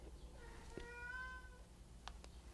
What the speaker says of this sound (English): You hear my cat yelling at us?